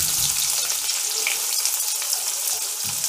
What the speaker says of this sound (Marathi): हा कांदा आपल्याला लालसर होईपर्यंत भाजून घ्यायचा आहे.